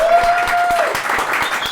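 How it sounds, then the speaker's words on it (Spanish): Audience clapping steadily in welcome for a guest on a Peruvian podcast, a short burst of dense applause with a brief tone ringing over it. "Vamos a recibir con fuertes palmas al señor Carlos Illanes."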